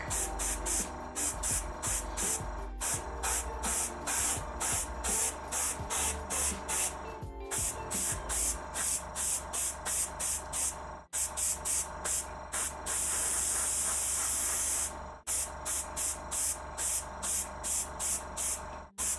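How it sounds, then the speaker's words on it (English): An airbrush sprays black paint onto a Dark Angels Nephilim Jetfighter miniature, giving a close, steady hiss broken into a long run of quick, regular bursts as the trigger is pulsed. "At some point I need a second airbrush, really."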